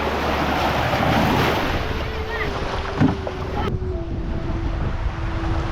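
Ocean surf washes steadily along a beach in Bali, a constant broadband roar mixed with wind buffeting the microphone and a faint engine drone from a passing boat.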